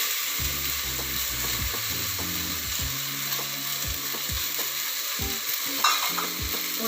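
Beans, carrots and potatoes sauté in a pan for brinji rice. A steady, bright sizzle runs throughout, punctuated by close, rhythmic spatula stirs and scrapes.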